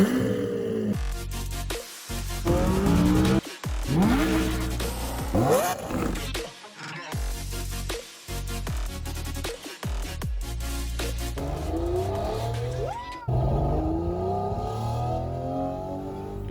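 Lotus Emira V6, a Mercedes-AMG-sourced engine option, driving past and accelerating hard, with repeated loud revving surges, gear changes and rising engine tone between brief lulls, no talking.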